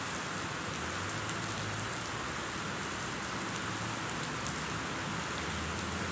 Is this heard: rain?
yes